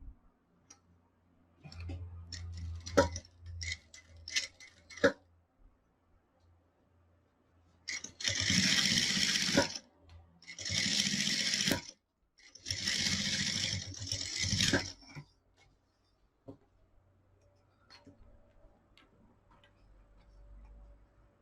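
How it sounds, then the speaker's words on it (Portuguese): A sewing machine stitches a seam to hold a lining in place, with light ticking handling sounds first, then three bursts of rapid whirring stitching separated by short pauses, close and clear with no voices. "vou passar uma costura aqui também, para prender o forro como eu fiz na parte de baixo"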